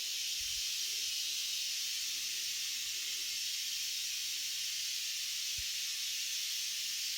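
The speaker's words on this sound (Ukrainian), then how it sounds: "Ой, мене утюг шипить." A steam iron gives off a steady, faint hiss that holds without a break, with a couple of soft low knocks in the background.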